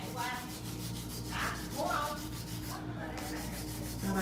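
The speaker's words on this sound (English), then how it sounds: "Hand filing gives me a little bit more evenness throughout the nail" Long nails hand-filed with a nail file: a steady, close rasping rub with no pauses, alone without talking.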